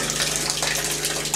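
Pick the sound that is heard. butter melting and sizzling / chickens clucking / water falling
water falling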